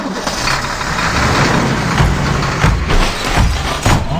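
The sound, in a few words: car engine starting and running in Mr Meat 2 video game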